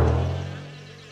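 Cartoon bees buzzing, a brief loud droning buzz that starts strongly and fades out within about a second, heard alone.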